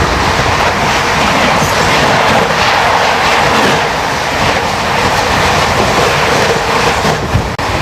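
Telangana Express rushing past on the rails at a crossing, a loud, continuous close roar with rolling wheel clatter filling the whole stretch, no voices.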